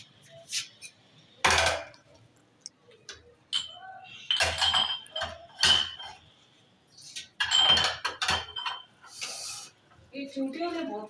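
Dishes, pots and cutlery clinking and knocking in a home kitchen, with sharp intermittent clatters scattered across the stretch, close by, alongside occasional background voices.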